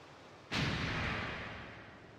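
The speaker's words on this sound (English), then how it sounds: "think we're just gonna shoot the cannon this time." A rune cannon fires in the Suikoden V video game: a single sudden loud blast that hits at once, then a long rushing roar slowly fading over the following seconds.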